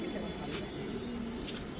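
A racing pigeon, a 2021 Rangpur first-prize winner, gives soft, low cooing that stays faint and close throughout the short stretch.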